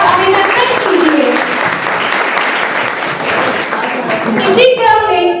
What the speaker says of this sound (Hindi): जोरदार तालियों की गड़गड़ाहट के साथ इनका नमन और अभिनंदन कीजिए